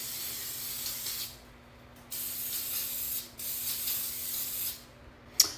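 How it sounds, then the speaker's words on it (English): Several hissing bursts from a hairspray can, each lasting about a second with short pauses between, close by and steady. "and then I just spray it everywhere."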